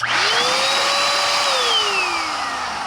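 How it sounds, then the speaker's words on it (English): A blow dryer whirs loudly and steadily up close, its whine rising in pitch as it spins up, then slowly sagging lower. "to top it off, we even have a blow dryer"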